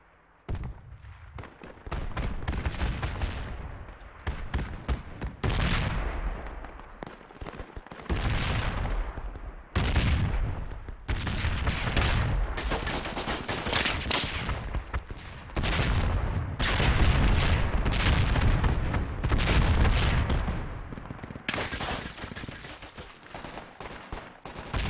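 Sustained gunfire in the military shooter Project Reality during a civilian operation near an archway: dense, loud, continuous volleys of rifle and automatic fire with heavy thumps. The barrage keeps up without a break.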